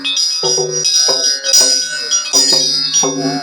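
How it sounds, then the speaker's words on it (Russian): A Tibetan bell rings out in bright, repeated metallic strikes, each leaving a shimmering ringing tail, loud and close, played at an outdoor bonfire celebration. "Вот она с колокольчиком. Тибетский колокол."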